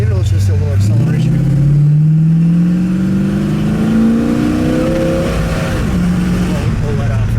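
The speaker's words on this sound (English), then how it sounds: "Give it just a little acceleration." A 1958 DeSoto Adventurer with a 361 V8 pulls away under light throttle, its engine note rising steadily in pitch and then easing off, heard from inside the car at a strong, constant level.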